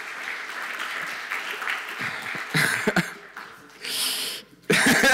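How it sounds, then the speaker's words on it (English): Conference audience clapping in bursts, swelling and fading as a speaker on stage welcomes a guest, mixed with murmurs and coughs, with a final loud burst of applause. "Come, clap, applause,"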